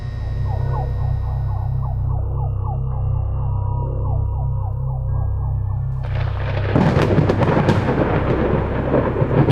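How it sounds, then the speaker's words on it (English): Low rumbling thunder rolls beneath a tonal, wavering drone, then a burst of heavy rain and crackling storm noise takes over near the end, in a Halo-based night storm. "It was a dark and stormy night on the Halo Ring."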